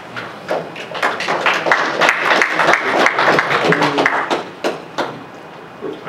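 A crowd applauding at a county supervisors' public hearing on a casino, with loud, uneven clapping from many hands in a room that continues for several seconds before thinning out.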